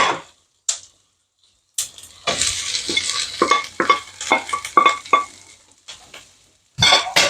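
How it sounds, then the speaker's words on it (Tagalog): Bean sprouts stir-fried in a pan, loud bursts of sizzling with scraping and tossing strokes in an irregular rhythm, close up and alone. "Add natin ang toge natin."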